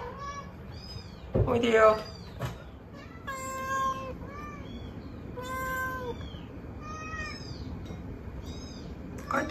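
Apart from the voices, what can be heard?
rescued newborn kittens meowing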